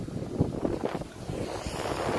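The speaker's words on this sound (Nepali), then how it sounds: "पछाडी यस्तो हावा चलिरहेछ" Steady sea wind at sunset rushes and buffets the microphone outdoors, with a broad roar like surf or open water beneath it.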